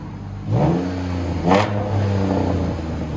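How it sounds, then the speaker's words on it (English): A 2006 Dodge Charger SXT with a 3.5L V6 and Xlerator exhaust revs up twice, each rise swelling into a throaty roar before settling back to a steady rumble, close and loud. "That's how a Charger should sound"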